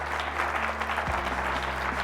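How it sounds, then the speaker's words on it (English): An audience applauds at a sponsored evening event on tackling obesity, a dense, continuous wash of many hands clapping that holds steady throughout, with a low hum running underneath. "So let's give them a big round of applause."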